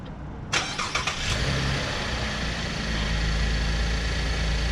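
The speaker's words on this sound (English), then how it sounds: "This is the keyless start. So we've just started up the car." A 2016 Holden VF Commodore fires up via its keyless push-button start: a quiet pause, then a sharp cranking catch with a few quick bursts, settling into a steady close engine idle.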